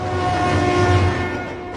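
A freight train rolls slowly past close by, a loud steady rumble with a tonal rail hum that goes on without a break.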